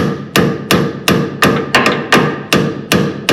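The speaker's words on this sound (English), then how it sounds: "Take your hammer and tap in." Hammer tapping a stubborn bent part into the front end of a dirt track race car, ten sharp, loud metallic strikes in a steady rhythm, each ringing briefly before the next.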